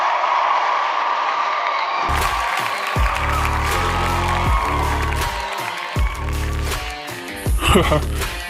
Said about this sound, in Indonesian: Gue udah dapat banyak tepuk tangan dan sorak riang dari mereka semua